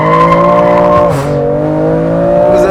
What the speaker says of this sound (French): Non, ça couine, mais ça freine bien.